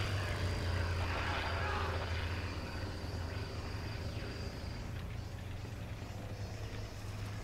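A propeller warplane drones overhead in the World War II shooter Forgotten Hope 2 on a Pacific island map, a steady low engine hum running throughout the clip amid faint background game noise.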